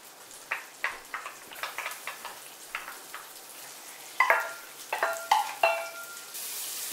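Garlic and shallot frying in olive oil with cooked prosciutto in a pan: a steady close sizzle broken by sharp crackles and pops, busiest toward the end, with no talking.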